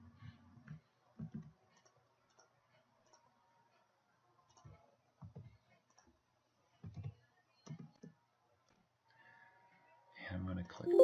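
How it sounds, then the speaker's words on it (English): A computer mouse clicking as a quiz is previewed in Respondus, a few sparse, quiet clicks scattered among soft, low voice murmurs in a quiet room. "And I'm going to click preview."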